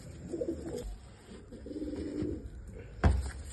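A young double mor pigeon coos in low, rolling bursts, with a couple of soft phrases close by and a sharper knock near the end.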